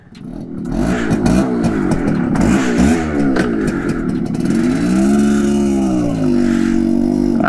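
A 1976 Yamaha YB100 motorcycle engine is kicked into life, then revs and settles into a steady, buzzing idle. It is loud and close throughout, with no talk over it.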